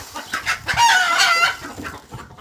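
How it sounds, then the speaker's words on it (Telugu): Native country chickens kept in a small flock in Saudi Arabia cluck and crow loudly and close by, with overlapping calls and one sustained crow in the middle and no talking. "ఇవి వచ్చేసి ఒక మినిమం ఒక 20 వరకు ఉంటాయి ఫ్రెండ్స్ కోళ్ళు."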